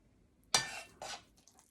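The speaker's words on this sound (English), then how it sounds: "first I'm going to start out by stirring the peanut butter" A utensil stirring a jar of peanut butter, heard as two short, close scraping clinks separated by a brief pause, in otherwise quiet surroundings.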